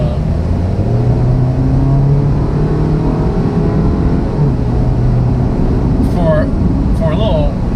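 A 2012 Chevrolet Equinox with a 2.4-litre four-cylinder engine pulls hard under acceleration, its steady drone and rising engine note filling the cabin, with some faint chirps late on.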